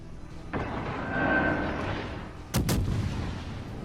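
Warship main guns fire armor-piercing shells in World of Warships Legends, a heavy boom opening into a long rumbling roar, then two sharp near-simultaneous blasts a couple of seconds later, loud and without talk.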